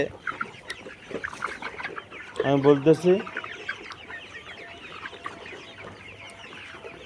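Layer pullet chickens on a farm cluck and call, with one loud burst of squawking in the middle and quieter clucks scattered throughout, while someone speaks over them.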